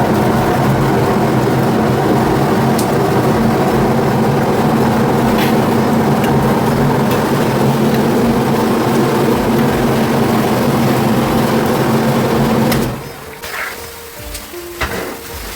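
A large lentil-processing machine runs with a loud, steady mechanical roar and a low droning hum, then cuts off abruptly near the end, leaving quieter clatter and room noise.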